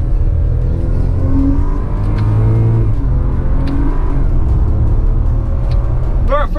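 A BMW 535i pulls hard in first gear, its engine a loud, close rumble whose tone climbs steadily as it accelerates, filling the cabin with little else audible.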